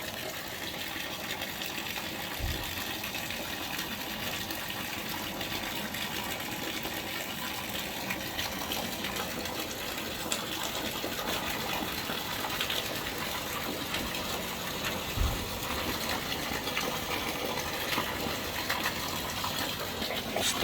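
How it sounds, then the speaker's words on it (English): Water pours steadily out of a tilapia pond filter, a faint continuous gushing and splashing with two soft low thumps along the way. "So I want to let it pour on out of here."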